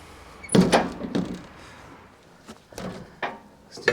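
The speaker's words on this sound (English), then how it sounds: "Let's just see if we can get this door off." The bent, twisted cab door of an old Ford 555 backhoe clunks and rattles as it is worked loose from its hinges, with several loud metallic thuds and scrapes in an irregular rhythm.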